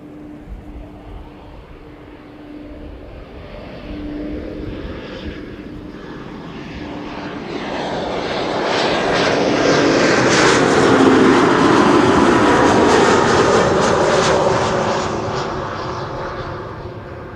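An airliner arriving at Schiphol Airport passes by, its engine rumble starting faint and distant, then swelling into a loud rushing roar at the midpoint before slowly fading again, with no voices heard.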